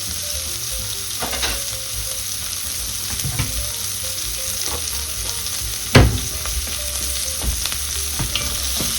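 Onions frying in a pan on the stove while being stirred, a steady close sizzle broken by periodic scraping and clattering strokes of the utensil, one sharper knock partway through.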